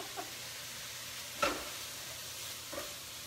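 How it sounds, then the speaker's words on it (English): Chicken browning in a pan for stuffed bell peppers, a soft steady sizzle with a few faint clinks and scrapes, quiet and without talking. "we're gonna let that brown for a few minutes"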